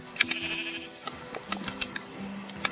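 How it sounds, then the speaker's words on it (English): Sheep bleating in the Minecraft video game, a few short bleats repeating across the stretch against a busy background of in-game clicks and block-placing sounds. "sheep!"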